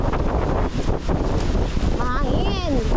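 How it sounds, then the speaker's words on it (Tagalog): Strong wind buffeting and rumbling loudly at Bulabog Beach, Boracay, with a person's voice speaking over it near the end. "Mahangin."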